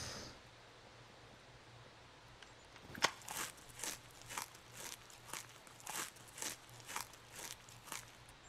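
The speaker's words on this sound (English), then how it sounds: "I'm gonna eat a little bit of flour real quick." Crunchy chewing of raw flour in the video game Scum, a series of close, rhythmic crunches roughly every half second that starts after a quiet stretch and continues to the end.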